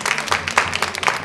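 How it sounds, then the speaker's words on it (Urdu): An audience applauds at a prize announcement during a naat recitation competition, with a dense, steady patter of many hands clapping and rising in a few louder surges, filling the whole moment. "آپ کی بھرپور تالیوں میں"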